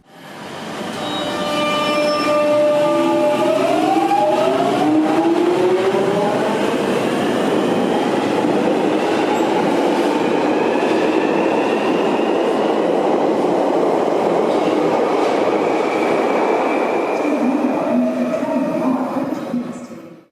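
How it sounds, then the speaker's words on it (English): A London Underground 1983 Tube Stock train's traction motors whine with rising and falling pitch as it moves, steady and loud throughout, with faint wheel squeal near the end. "they do have a very strange motor sound reminiscent of the Class 365 networker."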